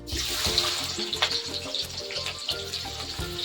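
Onions and garam masala fry in hot oil in a kitchen pan, giving a continuous close sizzle with bubbly crackle that rises and dips steadily, with no talk.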